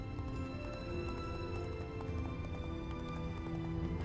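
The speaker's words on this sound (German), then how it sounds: "Kläuschen reitet weiter runter." A mounted hero rides across the map in the video game Heroes of Might and Magic 5, with steady horse-hoof clip-clop running continuously under tonal game music.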